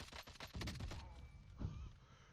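A designated marksman rifle fires in Warzone (Cold War), with a few quick, faint shots and muffled thuds in irregular bursts at low volume.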